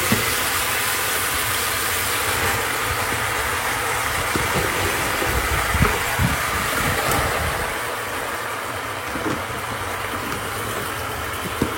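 Greens are dropped into a pan of frying shrimp, bringing a loud, steady sizzle and hiss that fills the clip, close up with a few soft clatters.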